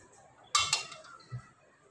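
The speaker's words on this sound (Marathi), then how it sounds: "आणि त्याच्यावर आहे ना ही चालण ठेवून घेणार आहे मी." A sieve is placed onto a cooking pot in a home kitchen. One bright metallic clink with a quick rattle, close and soft, then a dull low knock.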